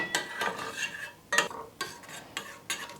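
A plastic whisk stirring a thickening mixture for Japanese milk bread, producing soft irregular scraping and tapping strokes against the bowl in short bursts, fairly quiet with no talk.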